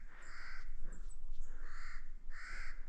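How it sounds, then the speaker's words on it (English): Crows caw noisily in the morning woods, several harsh repeated calls in quick succession from fairly close, with no talking. "the birds are awfully noisy this morning."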